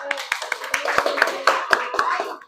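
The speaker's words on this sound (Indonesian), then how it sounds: "Tepuk tangan." A classroom group clapping hands in a teacher's lesson, a brief burst of irregular nearby claps mixed with overlapping voices talking and calling out.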